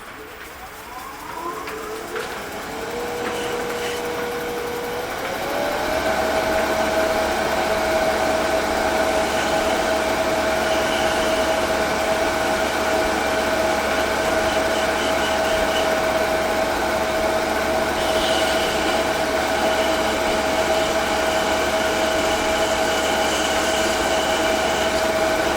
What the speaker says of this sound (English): Pretty much rounding this over with sandpaper because I was unable to do it with the spindle gouge.